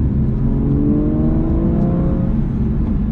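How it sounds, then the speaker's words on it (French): An Aston Martin V12 sports car engine revs up steadily, its deep, even growl rising in pitch as it accelerates, loud and close with no talking. "on bénéficie de la sonorité du V12 à n'importe quel régime"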